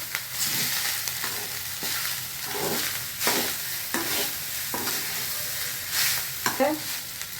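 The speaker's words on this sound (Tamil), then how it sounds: "இப்போ இது கிளறி இறக்கிடலாம்." Coconut rice with coriander is stirred in a pan, with repeated scraping spoon strokes at an uneven rhythm over a soft background sizzle, close and fairly loud, with no voices.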